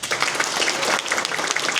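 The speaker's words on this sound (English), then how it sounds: "I want you to applaud for me. 1, 2, 3, applause." An audience at a quiz-style game applauds steadily for a short stretch, a dense wash of clapping filling the whole moment without talk.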